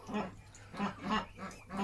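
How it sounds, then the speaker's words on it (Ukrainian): Ducks on a small household farm in the morning giving a run of loud, rhythmic quacks, several honking calls in quick succession from close by, with no talk. "Качки такі горласті, так кричать"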